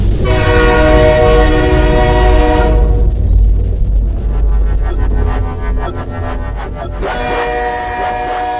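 A train sounds a long, loud horn over heavy rolling rumble as a sound effect in a Bengali horror thriller story, then the horn cuts off and the clattering of the rail cars continues alone.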